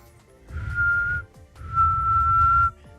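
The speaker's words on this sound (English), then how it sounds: "I can kind of whistle." A person whistles two sustained steady tones, each about a second long with a short gap between them, close and clear over low background hum, with no talk during the notes.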